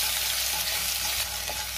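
Ginger-garlic paste frying in oil with crackled mustard seeds, cumin and asafoetida, a close, dense, hissing sizzle with faint stirring, no speech.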